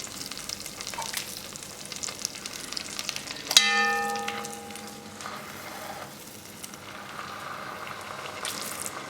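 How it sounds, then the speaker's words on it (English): Butter melting in a Dutch oven over medium-low heat, with a quiet, steady fizzing sizzle, briefly interrupted by a sharp ringing metallic clang that fades over about a second before the soft bubbling resumes. "Melt butter in a Dutch oven over medium-low heat."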